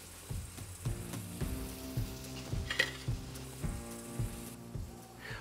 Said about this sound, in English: the steak has been cooking now for about 2 minutes